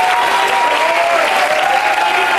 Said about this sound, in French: Derniers applaudissements et encouragements du public de ce soir.